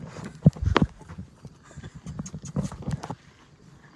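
Horses are walked at a stable, and their hooves clip-clop on a hard surface in an irregular patter, with a couple of louder strikes early on and faint background sounds.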